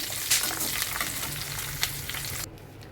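Curry leaves crackle and sizzle in hot oil for Diwali chivda, a steady close frying hiss with sharp pops that cuts off abruptly near the end.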